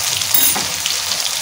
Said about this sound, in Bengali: আলুটাকে আমি 2 থেকে 3 মিনিট মতো ভেজে নেব